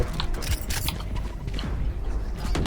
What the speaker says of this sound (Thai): เสียงเท้า